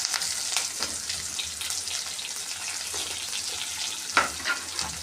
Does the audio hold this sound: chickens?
no